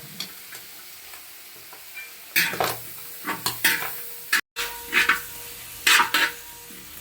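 Sautéing ginger, garlic, green chili, onion and curry leaves in a pan gives a soft sizzle broken by sharp spatula scrapes and clinks, irregular and close, with no talking.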